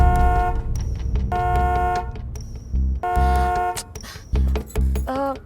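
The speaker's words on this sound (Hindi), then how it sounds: "जरा हॉर्न बजाएंगे ताकि वो मेरा नौकर जग्गू आ जाए" A car horn honks repeatedly in short and longer blasts, loud and close, with brief gaps between them.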